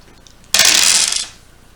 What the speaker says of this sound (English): you pull out the number of dice, so in this case 5, and you roll them